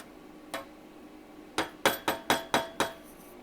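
A spoon scraping and knocking against a pot as couscous is stirred into boiling water: one isolated clink, a pause, then five quick, evenly spaced metallic taps, close and fairly loud, with no talking.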